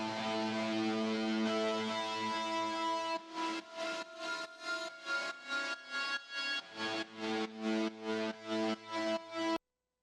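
An ambient pad sample run through Reese's OneKnob Pumper plays steadily for about three seconds, then swells and ducks in a rapid rhythmic pulse until it cuts off abruptly near the end, with no voices.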